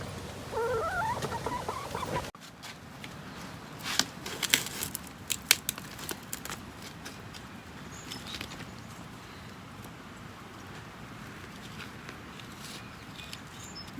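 Chickens cluck softly and peck on a homestead, a patter of light taps and scratches clustered in the first half, close and fairly faint, following a brief burst of noisy movement at the start.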